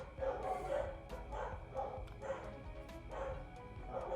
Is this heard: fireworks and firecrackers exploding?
no